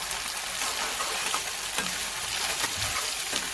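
Onion frying golden in a pan for soya keema, a continuous, even sizzle with faint crackles and occasional stirring, close and unbroken by talk.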